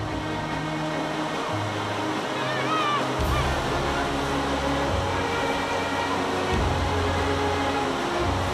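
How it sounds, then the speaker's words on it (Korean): Shizhangdong waterfall in Guizhou, China, a 76 m drop, gives a steady, dense roar of falling water that stays loud and unbroken throughout, with a low tonal hum underneath. "적수대 폭포라 불리는 십장동 폭포입니다."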